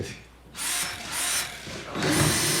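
Battery-powered drill running in bursts, a sharp whirring whine that starts, pauses briefly and restarts at moderate loudness, heard alone without talk.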